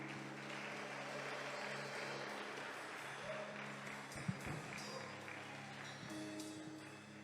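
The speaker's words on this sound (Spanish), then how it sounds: "Dale un fuerte aplauso a Jesús" A church congregation applauds together, a soft, diffuse wash of many hands that sounds distant and faint, holding a steady level with a small knock partway through.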